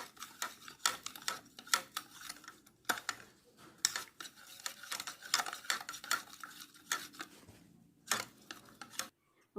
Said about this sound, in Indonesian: lalu diaduk.